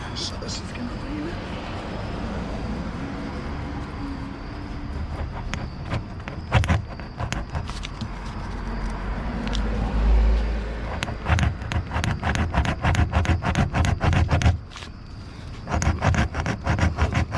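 A tire plug reamer is worked into a nail puncture in a car tire at the roadside, making a run of sharp, rhythmic scraping clicks up close over a continuous background rumble, with a person talking.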